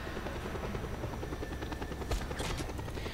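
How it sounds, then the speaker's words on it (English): Helicopter in the video game Just Cause 2, a steady chopping rotor drone with dense low thumping, close and loud throughout, with a brief sharp bang near the end. "So we'll hitch a ride on this chopper."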